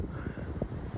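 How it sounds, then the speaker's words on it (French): Outdoor wind near a dolmen buffets the microphone in low, rumbling gusts for a brief moment, with no talk. "il y a du vent là"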